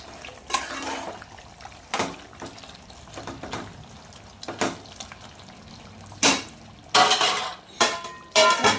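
Chicken curry with coconut and coriander being stirred in a pot, with irregular spoon scrapes and clanks against the metal over a faint simmering background, close and intermittent.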